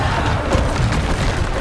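Bombarda spell explosions in Hogwarts Legacy, a dense rolling boom with layered thumps, continuous and loud throughout with no speech.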